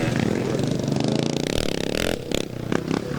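A Bultaco motorcycle in a classic scramble race howls past close by, its two-stroke engine buzzing loud and steady before easing off, with clattering and crowd noise behind.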